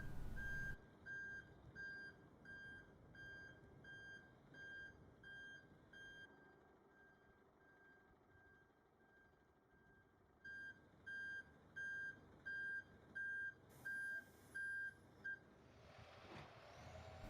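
A truck's reversing beeper sounds as it rolls slowly past cones, steady tones repeating for several seconds, fading out, then returning as a run of evenly spaced, louder beeps over a low engine rumble.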